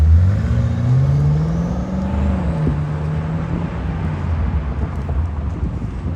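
A BMW M8 Competition pulls away and drives off, its deep engine note rising in pitch and then fading steadily into the distance over wind and road noise.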